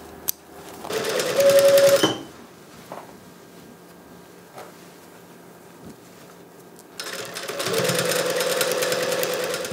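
A sewing machine stitches a seam on a wedding dress in bursts, fast, loud runs at the start and again near the end, with a quieter pause between while the fabric is handled.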